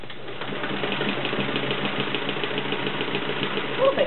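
A vintage Kenmore model 1422 sewing machine runs continuously nearby, its needle mechanism producing a rapid, regular mechanical chatter with a slight swell near the end.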